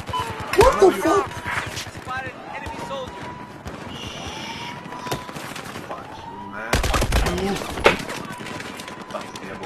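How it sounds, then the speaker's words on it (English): Gunfire in the first-person shooter Battlefield 4 during a training match, with sharp bursts of shots near the start and again later, plus scattered pops across the stretch, and players talking over it throughout. "Who's shooting me?"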